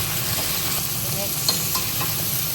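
Crab being stirred in a frying pan gives a steady, close sizzle with faint scraping of a utensil over a constant hiss, no speech.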